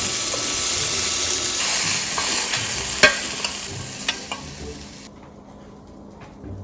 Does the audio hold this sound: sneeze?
no